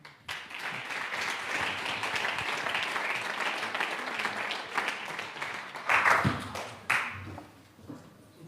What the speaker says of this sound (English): A warm applause, please, for them.